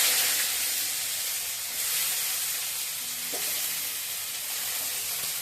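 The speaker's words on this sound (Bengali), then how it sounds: "তেলটা গরম হয়ে গেছে, প্রথমে ওই যে করলাগুলা দিয়ে দিই।" Sliced bitter gourd fries in hot oil in a wok, giving a steady, close, bright sizzling hiss throughout with faint occasional clinks, and no talking.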